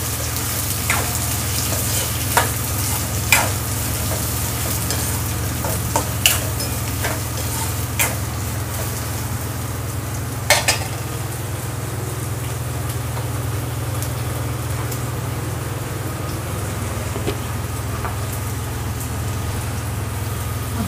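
Two large chopped onions sautéing with browned garlic in a pan give a continuous sizzle with a low steady hum, punctuated by scattered sharp scrapes and taps of a spatula stirring them.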